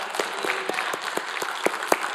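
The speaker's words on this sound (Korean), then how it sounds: "우리 하나님께 영광의 박수 한번 합시다." A church congregation claps together during a worship service, a fairly faint burst of brisk, scattered applause with a few louder individual claps standing out.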